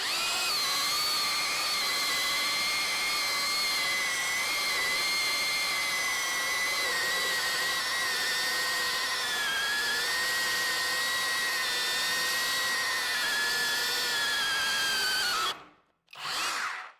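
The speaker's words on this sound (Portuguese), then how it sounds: "Depois é só colocar a serra-copo e apertar aqui. Modo somente furar." A GENAI 21V cordless SDS rotary hammer drills with a hole saw in drill-only mode, giving a steady, loud, high-pitched whine held for about fifteen seconds, then a brief stop and a short restart, with no talking.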